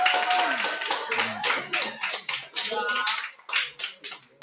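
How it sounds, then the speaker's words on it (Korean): Students clap in a classroom during a history lesson, with bursts of hand claps that come in uneven waves, loud and close, mixed with chatter and voices throughout. "지금은 3학년 2반 수업 중이라서 애들이 박수 쳐줬다."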